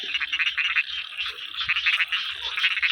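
Frogs croak across a field after the first rain: a dense, loud chorus of rapid overlapping croaks and trills pulsing continuously, with many animals calling at once and no talking.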